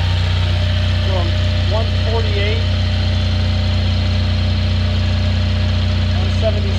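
A generator engine drones steadily at close range inside a garage, a constant loud hum for the full length, with a few faint squeaks and a voice in the background.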